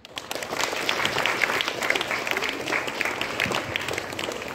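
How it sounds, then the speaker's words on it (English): Sustained applause from a middle school assembly audience, a dense even patter of many hands clapping at moderate volume that continues throughout. "Let's have a huge round of applause, please."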